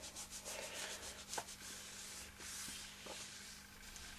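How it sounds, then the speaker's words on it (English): An eraser rubbing out a pencil outline on a piece of card, giving a faint, close, continuous scratchy rubbing with light strokes and a steady low hum behind it. "Just rub out the outline like that"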